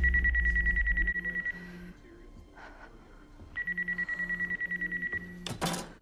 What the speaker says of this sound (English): Why did everyone just freak out when her phone rang?